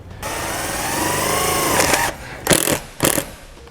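A power driver with a 1/4 inch socket sinks a screw through the track of a Solera slide-out awning on a 2018 Jayco North Point fifth wheel: about two seconds of steady rising whir, then two short sharp bursts.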